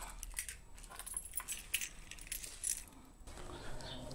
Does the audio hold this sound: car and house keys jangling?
yes